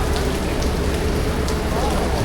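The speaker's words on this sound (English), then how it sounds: "And heavy rain start." Heavy rain pours down steadily, a dense, constant hiss of drops hitting surfaces with no pauses, loud and enveloping.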